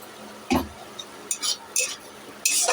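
Spices for a bitter gourd and potato poppy-seed dish with onion, sugar and turmeric are stirred and fried in a pan, making a few faint, scattered scraping strokes over a quiet background.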